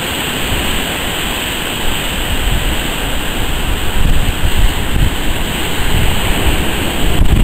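Loud, continuous roar of surf breaking over the Brunswick Heads river bar, building in intensity with heavy crashing, mixed with some wind buffeting.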